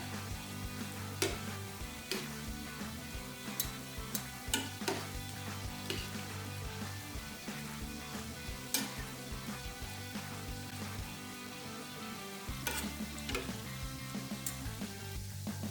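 Donuts fry in hot oil, a dense steady sizzle and crackle running throughout, broken by sharper pops and occasional clinks as the pieces are flipped, close and fairly loud with no voices.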